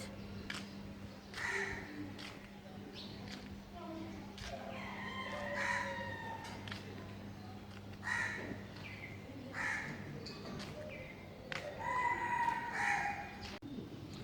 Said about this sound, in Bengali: পাশের পাশে আবার মুরগি পালে মনে হয় ভোর হলেই মোরগের আওয়াজ